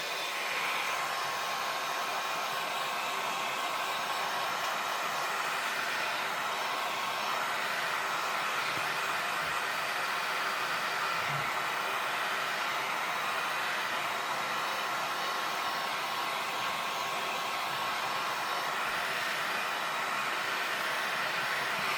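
A heat dryer blows steadily over a handmade card for about twenty seconds, a loud, continuous rushing whir with no talking.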